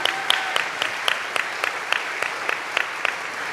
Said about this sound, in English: if we can give them all a round of applause